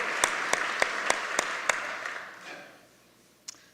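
Applause at a 2017 State of the State address for the Grays Lake mayor, a crowd clapping steadily before fading away after about two seconds, with one lone sharp clap near the end.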